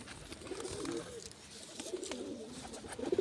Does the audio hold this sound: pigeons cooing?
yes